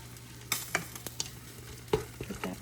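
Minced ginger gets stirred into a pan of frying food, with several sharp spoon scrapes and taps over a low, constant sizzle.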